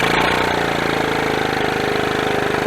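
A 1981 Honda CT110 barn-find motorcycle engine runs close by with a steady, rapid, loud putter, idling evenly throughout with no talk.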